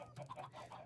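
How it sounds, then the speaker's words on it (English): Minecraft chickens cluck in a short burst of several soft, close clucks and squawks in the game world, with no talking over them. "Is those chickens? Those are chickens."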